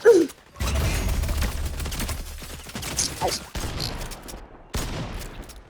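Rapid gunfire in a video game where a player is being sniped, heard as a sharp opening shot followed by dense overlapping bursts and mechanical clatter that continue loudly through the whole stretch.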